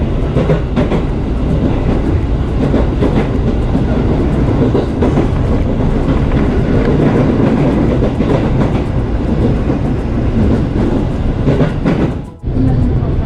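A commuter train arrives at Cikini Station in Jakarta, with a loud, continuous rumble and rhythmic clatter of wheels on rails, briefly dipping near the end.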